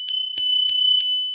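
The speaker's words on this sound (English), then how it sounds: "with it, you get this beautiful lead crystal bell." A lead crystal bell rings in quick, evenly spaced strikes, each a clear, bright, high tone that rings on between hits, close and alone.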